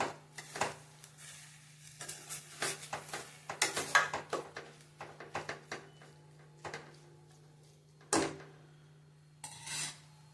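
Grated bottle gourd being sautéed in ghee in a pan: a spatula scrapes and rubs against the pan in uneven bursts and short strokes, close by, with brief pauses and a steady low hum underneath.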